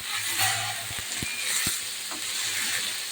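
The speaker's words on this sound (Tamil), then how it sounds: "வெங்காயம் வதங்கிட்டு தக்காளி பச்சை மிளகாய் எல்லாம் போட்டுருவோம்" Onion, tomato and green chili sautéing in a pan for a taro-root sambar and egg fry meal, giving a steady, close, broadband sizzle with a few soft stirring clicks, no speech.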